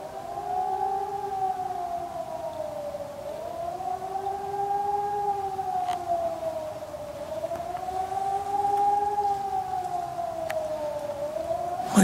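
A civil defense siren wails outdoors, rising and falling in slow, even cycles that carry steadily from a distance with no voices over it.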